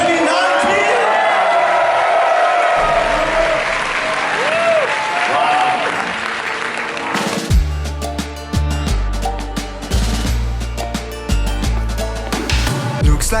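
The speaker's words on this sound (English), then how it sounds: "Let's hear a round of applause for Cardistry Con 2019!" Audience applause at Cardistry Con 2019, a card-flourishing convention, fills the room with steady clapping and crowd noise, then gives way to loud music with a heavy beat partway through.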